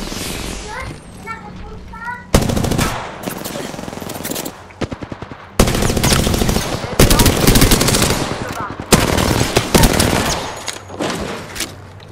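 Heavy gunfire in Apex Legends comes as loud, close bursts of rapid automatic shots in several volleys, with a voice talking between and over the shooting.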